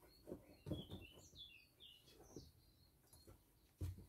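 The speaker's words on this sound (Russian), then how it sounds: "О, Славка запела." A warbler sings outdoors, a faint run of quick high chirps and twittering notes, with soft knocks and handling noises close by.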